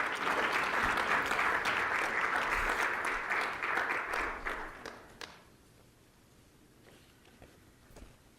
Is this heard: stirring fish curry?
no